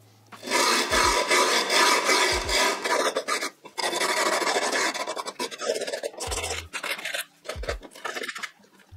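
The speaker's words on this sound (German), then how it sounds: "Jetzt nehmen wir hier unsere Feile und fangen an, hier die Seiten einmal so lang zu ratschen" A hand file rasps along the edges of grip tape on a stunt scooter deck in long, loud, continuous strokes, each several seconds long and broken by brief pauses.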